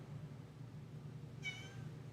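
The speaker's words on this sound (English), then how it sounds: "Meow." A cat gives a single short meow about midway through, quiet against a low steady indoor hum, with nothing else happening around it.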